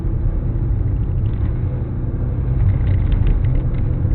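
A car engine pulls hard in second gear with a steady, close, low rumble and a slight rise in revs toward the end during a driving lesson.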